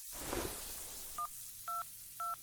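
Telephone keypad dialing tones: three short, clean beeps spaced about half a second apart, standing alone after a soft breathy rustle.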